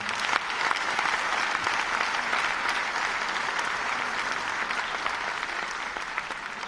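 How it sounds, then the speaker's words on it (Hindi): Sustained applause from a large audience in an auditorium at a political honour ceremony in Jaipur, dense steady clapping filling the hall throughout with no speech over it. "जरूर आप तालियां बजाएं"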